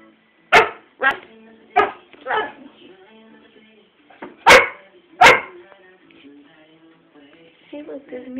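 A dog barks loudly at close range, six sharp barks in two uneven groups, followed by a quieter low whimpering tail, with no talking over it.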